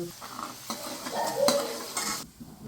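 Spices fry in hot oil for tempering, sizzling as they are stirred briskly in a pan, scraping and crackling close by for a few seconds.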